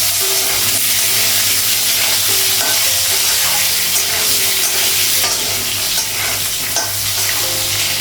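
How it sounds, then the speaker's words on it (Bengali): Potatoes frying in a pan in a Bengali home kitchen, a loud continuous sizzle with repeated scraping stirs throughout and no talking. "তো আলুটা একটু ভেজে নেব।"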